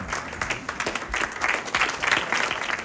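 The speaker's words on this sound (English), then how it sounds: "Come on, give him a round of applause." A lecture audience bursts into applause, many hands clapping in a dense, irregular patter that swells slightly toward the end.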